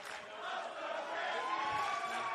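A stadium crowd cheers and roars at a men's rugby grand final between Queensland and the Northern All-Stars at Ballymore Stadium, a steady, swelling wall of voices heard from within the stands.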